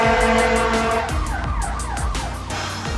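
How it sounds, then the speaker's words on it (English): Emergency siren from fire trucks passing outside, a loud wailing tone sweeping up and down continuously over traffic rumble, steady for the whole stretch with no talking. "I am so sorry that you had to hear the fire trucks."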